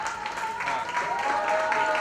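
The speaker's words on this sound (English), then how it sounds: "Please, a very big warm round of applause." A warm round of audience applause at a book launch event for a book titled Kama, fairly close and continuous, with a sustained tonal sound running underneath.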